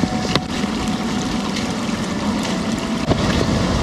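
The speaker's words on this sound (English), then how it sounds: "I can hear the ocean. It sounds awesome." Ocean surf on a snowy Oregon coast rolls as a steady broadband roar with wind noise, continuous and fairly loud, without any voices.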